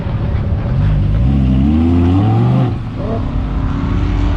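An all-wheel-drive Audi R8 launches down a drag strip with a loud, close engine roar whose pitch climbs through the gears, dipping briefly at a shift before pulling hard again.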